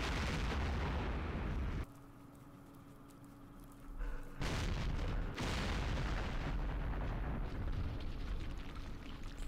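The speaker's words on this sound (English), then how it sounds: "Artillery on an overstacked hex." Artillery strike on a crowded hex in the wargame Campaign Series Vietnam, heavy booming impacts that cut out briefly, then return as a loud rumbling explosion that rolls on to the end.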